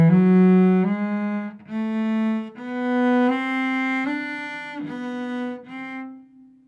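Cello notes played with poor bow distribution, a short slow phrase of sustained bowed tones that starts full and strong, then thins as the last note runs out of bow, heard alone.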